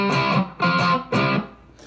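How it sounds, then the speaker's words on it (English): A Les Paul Junior electric guitar with P90 pickups plays three loud chords through high-gain distortion, each strummed and held briefly before the last one fades out. "And they kind of had like a high gain kind of sound"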